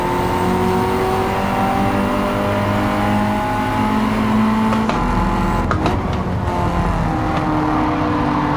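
A race car engine in Gran Turismo 7 drones loudly and continuously, its pitch rising and falling through shifts and corners, with brief clicks and a faint tire squeal along the way.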